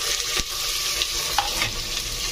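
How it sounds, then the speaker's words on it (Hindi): Onion and red chilli fry in hot oil for a Hotel-style rajma masala, a steady loud sizzle with a few brief stirring scrapes, close by and without talk. "अब ये प्याज गोल्डन ब्राउन तक पकाऊंगी"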